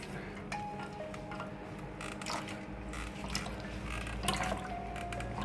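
Aloe vera and fenugreek liquid is pressed through a kitchen sieve, giving soft squishy drips and trickles with small splashes, close and fairly quiet throughout.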